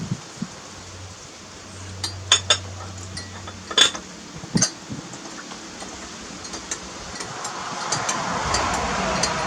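A teaspoon stirring sugar into a cup of flowering tea bloom: scattered metallic clinks and taps against the cup, close and sparse, with a low hum and faint hiss in the background.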